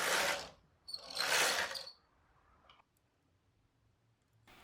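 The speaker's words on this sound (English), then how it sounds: "The lines of open work are created by transferring every 5th stitch over to the right. I'm doing this by hand" Stitches are moved by hand on a Brother bulky knitting machine while knitting a lace shawl, making two short bursts of close mechanical clicking and sliding, then quieter small ticks and a final faint knock.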